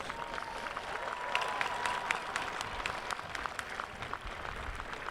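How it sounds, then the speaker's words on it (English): A large audience at an Auburn University fall commencement breaks into steady, dense applause, a continuous wash of clapping that holds at even loudness throughout with no speech over it. "So give them a round of applause."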